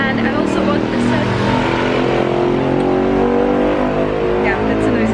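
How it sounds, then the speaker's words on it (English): Noisy Bangkok street traffic: a constant, loud roar of engines and passing vehicles with continuous rumble, steady throughout with no gaps, and a voice talking over it. "Yeah, that's a noisy street."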